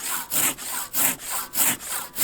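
A Silky Temagari Japanese pruning saw cuts through a small-diameter branch in quick rhythmic strokes, about seven close, crisp rasping pulls and pushes with no talk.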